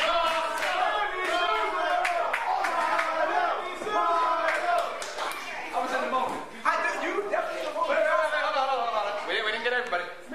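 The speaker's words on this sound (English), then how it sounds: "A cheer for the Hoodz, not so much, but for Chris Pyro, yes indeed" Crowd at an independent pro wrestling show cheering and chanting in loud, surging bursts, heard up close throughout.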